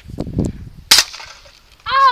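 Pistol target shooting: one sharp, loud crack rings out partway through, preceded by faint low voice-like sounds and followed by a brief tonal sound near the end.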